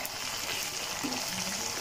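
Ginger garlic paste frying in oil with bay leaves, cinnamon and cardamom, giving a steady close sizzle that runs evenly throughout with no talking.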